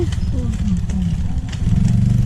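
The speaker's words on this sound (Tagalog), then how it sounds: "May motor nga pala." A motorcycle engine rumbles nearby, a low steady drone running under close conversation, rising slightly toward the end as it passes.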